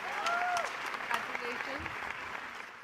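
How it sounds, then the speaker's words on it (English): Audience applause at the Restore Awards ceremony, a steady wash of clapping from a crowd that holds at an even level throughout, with a voice briefly audible over it. "Can we have a resounding round of applause for each one?"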